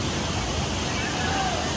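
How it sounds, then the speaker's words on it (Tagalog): Taytay Falls in Majayjay, Laguna, pouring over rocks in clear water, heard as a steady, close, broadband rush of water that fills the whole moment. "Napakaganda nitong falls na to."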